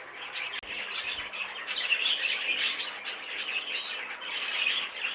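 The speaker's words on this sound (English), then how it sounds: "let's take a look at the heavily variegated buff bird first." A heavily variegated buff canary in a show cage calls in steady bursts of bright, chattering chirps and squawks, close and fairly loud, with no talk over it.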